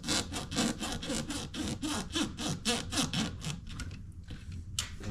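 Hose pliers twist and scrape against a coolant hose on the reserve tank of a 2000 VW Eurovan, making repeated rhythmic rubbing strokes that slow and fade toward the end.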